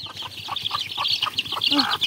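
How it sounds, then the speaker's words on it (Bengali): Desi chickens raised at home cluck in short, repeated bursts at close range, and a sharper call stands out near the end. "আমি আমার এই মুরগিগুলোকে দেখাতে আসলাম।"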